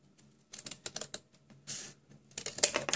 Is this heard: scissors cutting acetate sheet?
yes